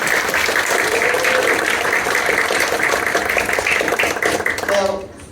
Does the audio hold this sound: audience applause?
yes